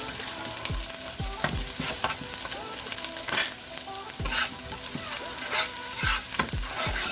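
Habanero pepper, garlic and ginger fry in hot oil for a chicken curry, a loud, steady sizzle with repeated scraping stirs and spoon knocks against the pot throughout, close up and without speech.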